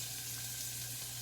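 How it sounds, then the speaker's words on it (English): Onions hit hot olive oil in a pan over medium heat, giving a brief, steady close-up sizzling hiss with a low hum beneath it. "I'm going to go ahead and add the onions"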